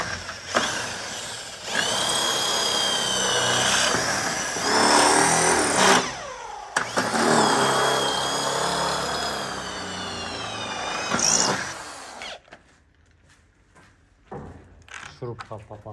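Power drill driving screws into a plastic window frame during window installation, a loud continuous whirring drone broken by short pauses and revving bursts, with people talking nearby.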